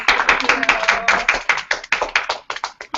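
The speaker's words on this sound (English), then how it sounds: "Oh, big round of applause" A small group claps in a quick, uneven patter of sharp hand claps, close and fairly loud, with no talking.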